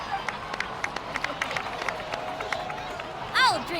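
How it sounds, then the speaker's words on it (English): A crowd claps in Genshin Impact, a scattered patter of hands under a murmur of voices, moderately loud and steady, ending in a short bright whooshing chime effect. "please give another round of applause for them"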